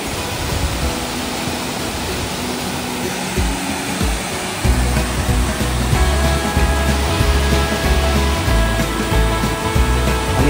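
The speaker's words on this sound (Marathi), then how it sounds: "हे पाणी आहे ना, गड नदीत जातो सगळं पाणी" Water rushing loudly where people wade into a stream that flows into the Gad river, a constant roar that swells and deepens midway, with no talk.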